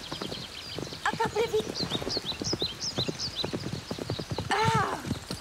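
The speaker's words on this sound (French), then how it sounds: "Galop, galop." A horse gallops with steady drumming hoofbeats during an animated equestrian obstacle race, then gives a loud whinny near the end, while a voice talks over the hooves.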